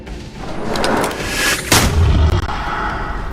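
Heavy gunfire and booming blasts fire at dragons in Eternal Card Game, with a dense cluster of loud, rumbling shots and a sharp impact near the middle.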